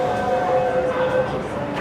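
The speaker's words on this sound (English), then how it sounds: "That is my train to Central." A Hong Kong subway train arrives at a station in Hong Kong, a continuous rumbling roar with steady whining tones from the train, loud and close on the platform.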